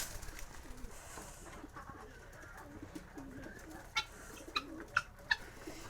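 Pigeons coo in low, soft, repeated murmurs against a quiet outdoor background, with a few sharp bird chirps near the end.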